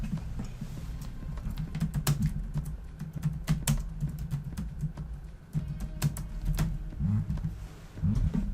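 Someone types on a computer keyboard in quick irregular bursts of clicks and brief pauses, close and fairly quiet, with no talking over it.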